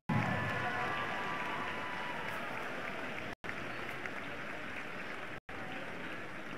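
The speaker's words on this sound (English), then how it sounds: "another big round of applause for Homestead High School boys basketball coach Chris Johnson." A high school gym crowd applauds a boys basketball coach at a game, with steady, dense clapping and crowd noise, broken by two brief dropouts.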